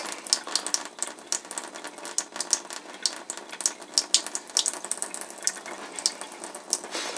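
A faucet in an Eagle fifth-wheel RV runs steadily while antifreeze drains from the hot water line, a continuous near splashing hiss with small irregular spurts and clicks, no one speaking.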